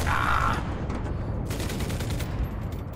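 Machine gun fire in the World War II shooter Enlisted rattles in rapid, dense bursts, loud and close throughout.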